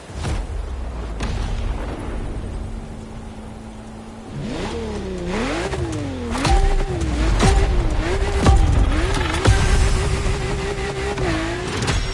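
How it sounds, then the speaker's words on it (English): Lamborghini Murcielago engine in The Crew Motorfest, idling low then revving hard through repeated gear changes, the pitch climbing and dropping in rhythmic waves, loud and close with a sharp exhaust burble. "you'll be making some curves with the Lamborghini Murcielago"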